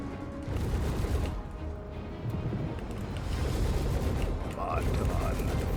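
Spaceship guns firing in Star Citizen combat missions against Gladius fighters, with a dense, continuous rumble of rapid shots and engine roar and occasional brief tonal blips over it.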